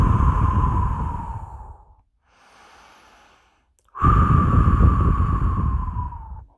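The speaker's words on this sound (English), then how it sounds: "I'm going to take a deep breath." A deep, audible breath drawn in with a long airy rush, then a quiet pause with a faint exhale, followed by another strong, close sigh-like breath that fades out slowly.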